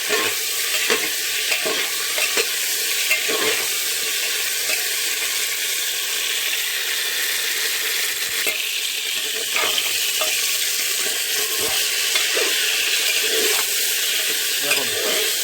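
Cauliflower and potato pieces fry in oil for khichuri, a constant loud sizzle broken by repeated scraping strokes of a spatula stirring the pan.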